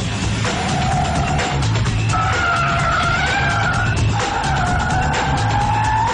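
Mazda RX8 rotary engine driven hard, a loud, continuous high revving wail that climbs and drops between gear changes, with tyre noise underneath and no talking.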